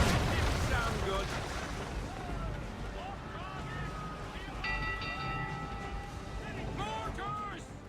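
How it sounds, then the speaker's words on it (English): Mortar fire booms during a naval mission in Assassin's Creed 3, with dull, rumbling blasts set under shouting voices, ringing metallic tones and continuous wind and sea noise. "Mortars!"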